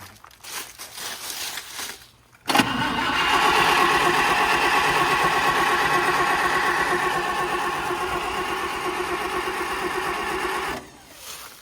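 A 1956 Chevy truck engine after a cold winter: a short crank, then it catches and runs with a steady rough roar for about eight seconds before cutting off.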